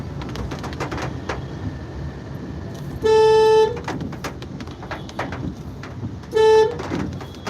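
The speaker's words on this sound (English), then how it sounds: "And you can hear the honking." Car horns honk twice in Indian commute traffic, each a loud steady blast lasting under a second, separated by a few seconds of busy road noise with distant engines and chirping birds.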